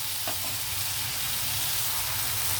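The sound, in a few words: ginger, garlic, onion and tomato frying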